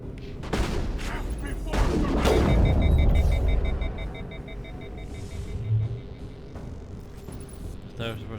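Pistol gunfire from the Mass Effect 1 video game, fired with shredder or high-explosive rounds, comes as a couple of booming shots with rumbling game sound behind them, and a voice talks around the shots.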